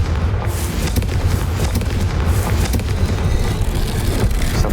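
A Confringo blasting spell detonates in the Hogwarts Legacy video game, a loud, dense roaring boom that rumbles steadily throughout without letting up.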